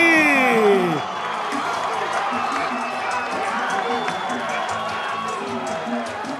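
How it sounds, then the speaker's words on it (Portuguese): A sports-event crowd cheers and applauds after a match win at a beach volleyball-style open tournament, a steady roar of voices and clapping held throughout, with a whistle-like rising tone at the start and an announcer's voice over the top. "E vence Vitinho, vence Bruninho, vamos aplaudir!"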